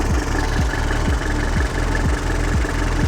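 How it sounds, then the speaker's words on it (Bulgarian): A Volga car engine idles close by with a steady, rough rumble and a regular knocking pulse about twice a second. It runs loud and continuous with no pauses. "Сега ще видим дали ще запали Волгето."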